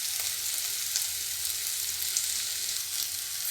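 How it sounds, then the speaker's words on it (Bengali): Vegetables sizzle steadily in hot oil in a pan while cooking for sabudana pulao, a continuous close crackling hiss with no pauses and no voices. "সবজিগুলো দেখুন আমার মোটামুটি ভাজা হয়ে গেছে।"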